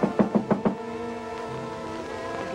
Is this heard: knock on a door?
yes